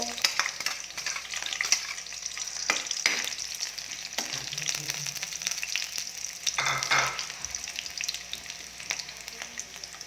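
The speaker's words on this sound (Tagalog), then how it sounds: "Yan po, magigisa po tayo ngayon ng alamang" Alamang shrimp paste sautés with garlic and onion in oil, a steady close sizzle with intermittent spoon scrapes and clinks against the pan.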